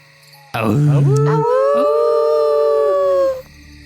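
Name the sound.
player imitating a howl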